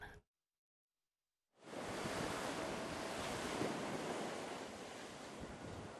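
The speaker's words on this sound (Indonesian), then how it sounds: "Gelombang tinggi di perairan laut utara Jawa Tengah, tepatnya di Jepara" High sea waves roll off the north coast of Central Java at Jepara, a loud, continuous roar of surf mixed with wind buffeting the microphone, following a brief silence at the start.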